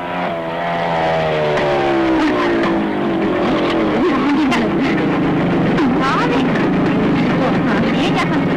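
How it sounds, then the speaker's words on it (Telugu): A motorbike engine approaches and holds close and loud, its pitch sliding down and then rising again, while people talk over it throughout. "ఇప్పుడు ఆ రౌడీ రంగమ్మ అదే ఆ అనిత మోటార్ బైక్ లో వస్తుంది."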